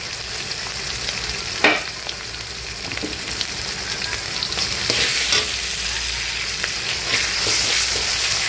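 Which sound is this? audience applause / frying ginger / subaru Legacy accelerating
frying ginger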